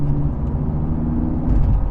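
Ferrari 458 supercar in race mode, its engine producing a loud, steady low drone at around 47 mph, building slightly toward the end with no voices.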